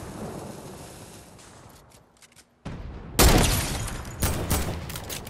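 Dynamite explodes in Fortnite, a loud blast followed by another burst of crackling detonations after a brief near-silence, close and heavy with rumbling tails.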